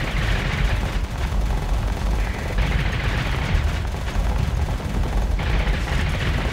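Space battle in the game Starsector: missiles and ship weapons fire in a loud, dense, continuous barrage of booms and rapid gunfire, with no gaps.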